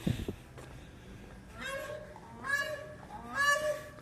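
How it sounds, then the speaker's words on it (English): Sandhill cranes give three loud, rolling bugling calls in succession, each a harmonic, trumpeting rattle, rising toward the end of a few seconds with no talking over them. "Sandhill cranes."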